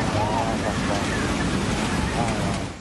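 Floodwater from the overflowing Lawo River in Soppeng rushes through a village where a stilt house is swept away, a constant broad roar of moving water and wind with a faint voice in the background.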